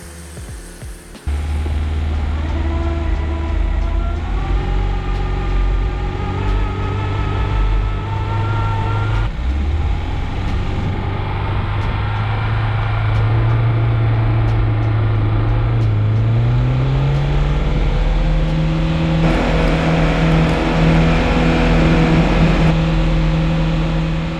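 A Lada Niva's engine is held at high revs while it ploughs through deep snow, a loud continuous drone whose pitch climbs and shifts as the revs change, with no voices.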